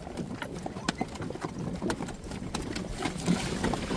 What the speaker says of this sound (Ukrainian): Коні вже йдуть впевнено, трошки побігали в цій упряжі.